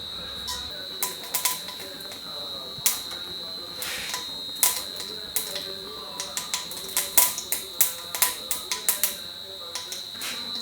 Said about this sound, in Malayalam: എണ്ണ ചൂടാകുമ്പോഴേക്കും അതിലേക്ക് കടുക് ഇട്ട് കൊടുക്കുക